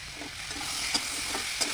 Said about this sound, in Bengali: এই মশলাটাকে একটু কষিয়ে আমি জল দিয়ে দেবো।